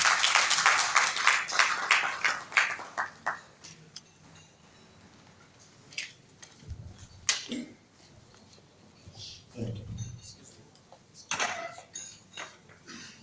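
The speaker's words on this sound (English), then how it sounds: "Please let's give him a round of applause." An audience at a formal ceremony gives a short burst of applause that fades into scattered claps, followed by light thumps and shuffling.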